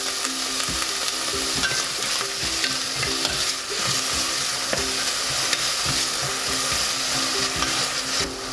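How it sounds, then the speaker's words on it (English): Lotus root stir-fried in about a tablespoon of hot vegetable oil in a pot makes a steady, close sizzle, with repeated scraping and knocking from the stirring running through it and no voices. "add chikuwa fish cake and keep stir frying"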